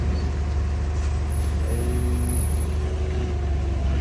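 A truck backs up at a warehouse dock with a low, steady engine rumble close by, and brief tonal hissing and whining rises partway through.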